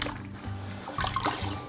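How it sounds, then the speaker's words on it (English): Water is poured into a bucket of thin-set tile mortar while a tile is being replaced, a short splashing pour heard up close with no one talking. "I just add some water and start mixing it."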